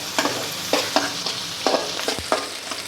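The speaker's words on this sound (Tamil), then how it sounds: "வெங்காயம் பச்சை மிளகாவும் வதங்கிட்டு இருக்கு." Onions and green chillies sautéing in a pan, a soft steady sizzle broken by several sharp scraping stirs of a spoon, close up, with no talking.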